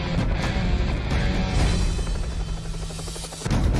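A news helicopter hovers above a massive oil train fire on the central Oklahoma plains, its steady rotor drone filling the air, constant and fairly loud throughout.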